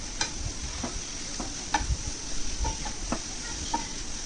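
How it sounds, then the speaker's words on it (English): Mushrooms sautéing in butter in a pan over a very low flame, giving a steady soft sizzle with occasional stirring clicks and scrapes, close and fairly quiet. "We have added all the mushroom to the butter. Just saute it for a minute."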